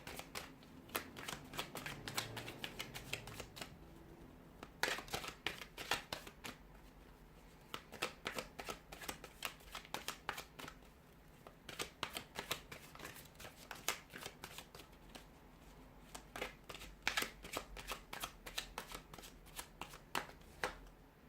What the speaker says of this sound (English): we'll go ahead and give the cards a shuffle